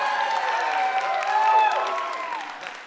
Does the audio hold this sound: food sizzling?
no